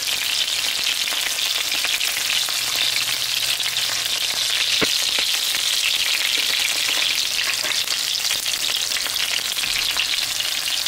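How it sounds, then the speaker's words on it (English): Chicken wings frying until crispy, a dense, loud, continuous crackling sizzle of hot oil held steady throughout, close up with a single brief click midway and no voices. "I'm gonna let the wings continue to get crispy and cooked."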